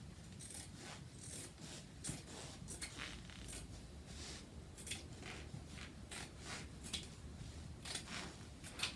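Scissors cut across the end of a fabric jelly roll quilt top in a quiet, close series of rhythmic snips and rustles.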